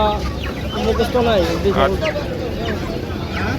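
Chickens cluck and squawk at a busy duck and chicken market, several calls overlapping amid crowd noise and people talking nearby.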